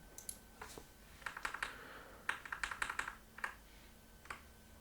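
Computer keyboard keys, including arrow and shift keys, are pressed in quick irregular bursts of crisp, close clicks while editing a Microsoft Access database form, with no talking.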